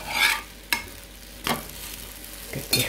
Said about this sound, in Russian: Блинчики мои шкварчат на сковородке.